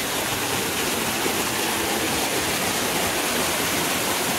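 Steady, full-spectrum roar of a waterfall in Darjeeling, close and loud, an unbroken rush of falling water with no voices over it.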